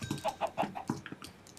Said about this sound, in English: I'm also murdering chickens.